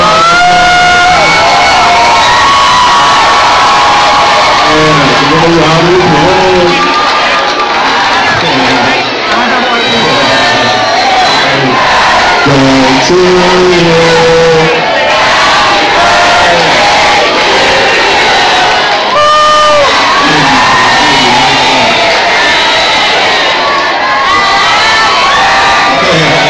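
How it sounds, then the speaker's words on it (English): A large crowd cheers and shouts loudly and continuously, with whoops and excited voices blending into a sustained roar. "let's give them a round of applause"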